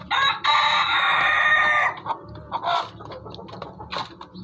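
A rooster crows loudly and close by in one long drawn-out call, followed by softer clucks and shuffling in a backyard hen coop.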